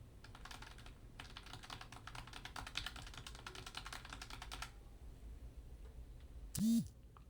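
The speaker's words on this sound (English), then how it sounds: "I'm going to start off with the quick keyboard test" Rapid computer keyboard typing picked up by a DJI Mic 3 clip-on microphone from about 6 to 12 inches away, a dense run of close key clicks that stops partway, followed by a brief quiet stretch and one short tonal blip near the end.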